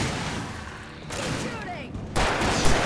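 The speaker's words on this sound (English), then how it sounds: "Shooting." Gunfire in the video game Alan Wake Remastered: loud, rapid bursts of shots and bangs close up, with a heavier burst near the end, layered over game ambience and partly overlapped by voices.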